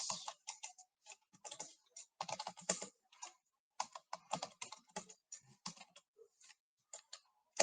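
Quick bursts of typing on a computer keyboard, close and crisp, with irregular clusters of key clicks and short pauses, no voices.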